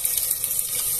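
Water runs steadily from a tap into a cooking pot for a pumpkin and jerked beef broth, a continuous close hiss with no talk over it.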